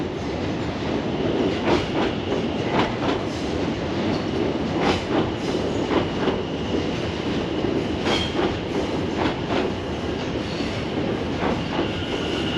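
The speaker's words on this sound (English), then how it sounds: "Oh, we got one of the newer Ventras." A Class 720 Aventra electric train moves through London Fenchurch Street station with a loud, continuous rolling rumble broken by regular clicks and clacks from the wheels passing over rail joints.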